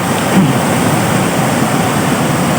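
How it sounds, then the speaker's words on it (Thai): Steady broadband rush of a waterfall at a Nong Wai dam tourist spot, a continuous close, loud wash of falling water with no talk over it. "น้ำตก น้ำตก น้ำตก"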